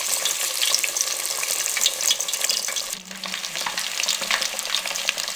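Fish frying in a pan on a lowered flame, a dense, bright crackling sizzle that runs steadily throughout with a brief dip partway, close up and with no voices.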